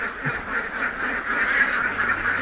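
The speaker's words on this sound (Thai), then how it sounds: "เป็ด" Egg-laying ducks on a farm quack in a dense, continuous chorus, loud and fairly close, a steady mass of overlapping calls with no speech.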